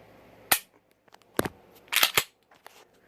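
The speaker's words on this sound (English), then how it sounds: "I'm going to dry fire it." Springfield XDE hammer-fired 9mm pistol dry-fired, giving a few sharp mechanical snaps and clicks, one isolated then a tight cluster of three, close and crisp in a quiet room.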